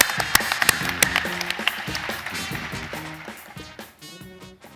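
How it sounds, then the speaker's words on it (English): Applause from a conference audience at a pitch competition on a centre stage, a dense wash of many hands clapping with a few sharper claps near the start, carried on with music underneath and slowly fading out. "Huge round of applause for him"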